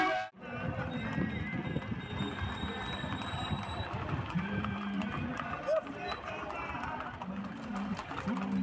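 Horses clip-clopping along a rural cavalcade, hooves mixed with neighing and a dense crowd of riders and onlookers talking and calling out, steady and busy throughout.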